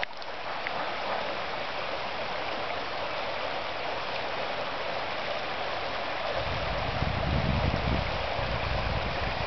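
Creek water rushes steadily over bedrock, with a churning backwash that grows fuller and louder near the end, continuous and close with no voices.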